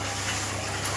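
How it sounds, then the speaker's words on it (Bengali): Water poured into a cooking pot for a tangra fish curry: a steady, continuous gush and splash, close and fairly loud, with no talk. "এবার জল দিয়ে দিচ্ছে পরিমাণ মতো।"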